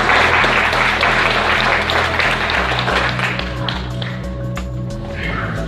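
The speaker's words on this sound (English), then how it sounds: "join with me for one big final round of applause for all our speakers" A conference audience at the Australian Vaccine Summit 2018 applauds the speakers, a dense, steady wash of many hands clapping that slowly thins toward the end, with faint voices and a low musical hum underneath.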